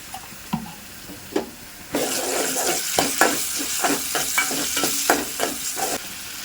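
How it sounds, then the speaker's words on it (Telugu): Onions fry in a pan as half a spoon of ginger is added, a quiet sizzle that suddenly swells louder, then steady bubbling frying with a regular series of sharp stirring scrapes close by. "ఉల్లిగడ్డలు అయితే ఫ్రై అయినాయండి ఇప్పుడు ఒక సగం చెంచా అల్లం అయితే వేస్తున్నా"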